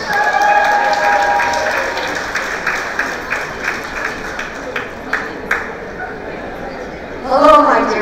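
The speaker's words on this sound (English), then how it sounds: "I request everybody to give her a big round of applause." Audience applause at a school graduation ceremony, a steady wash of clapping from a large gathering that thins into scattered claps, with voices over it and a brief tone near the end.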